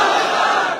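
A rally crowd roars back its answer to the Takbir slogan, a short, loud unison shout from many voices that fades at the end of under a second.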